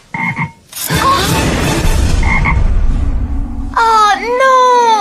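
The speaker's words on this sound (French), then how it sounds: "Les grenouilles ont un fort instinct territorial." Cartoon frogs croak loudly in short bursts mixed with other voices, ending in warbling, rising croaks.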